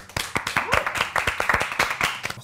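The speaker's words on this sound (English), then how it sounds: "Can we have a round of applause" A round of clapping from a few people in a small room: quick, uneven hand claps close by, lasting a couple of seconds, with faint voices underneath.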